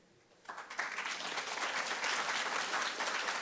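A church congregation at an Easter morning worship service breaks into applause after a quiet start, the clapping swelling quickly into a full, sustained burst that fills the room.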